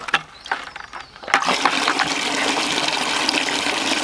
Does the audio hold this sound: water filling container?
yes